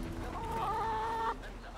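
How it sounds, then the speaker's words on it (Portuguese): A chicken in Assassin's Creed Mirage lets out a drawn-out, wavering cluck-squawk lasting about a second, loud and close over a steady game background. "Caralho, galinha doidona."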